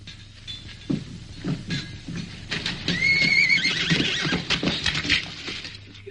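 Horse neighs and whinnies in an Old West town setting, a loud shrill call rising mid-clip over faint hoof clip-clop and street bustle.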